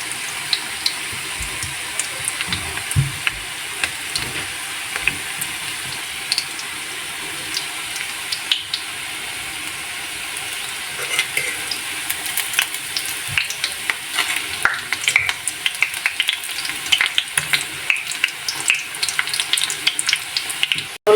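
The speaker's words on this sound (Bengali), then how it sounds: "এক সাইড আমি 2-3 মিনিট করে ভেজে নেব" Moong puli pitha, stuffed dumplings, frying in oil in a pan, a continuous close sizzle with occasional stirring, scraping and spattering bursts that grow busier toward the end.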